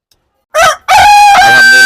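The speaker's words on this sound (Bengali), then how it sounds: "আমাদের ফার্মে সব মুরগি পুরোপুরি ভরা, অনেক আছে মুরগি" A rooster on a chicken farm gives one loud, close crow, a short first burst followed by a long drawn-out call, with no talking over it.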